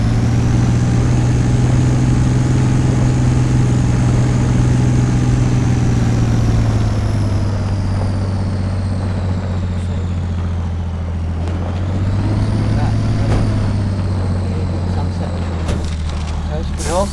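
A truck engine in the Spin Tires driving game runs steadily as the vehicle pushes through scrub, ferns and trees, its drone shifting pitch slightly, with occasional cracks and snaps of vegetation.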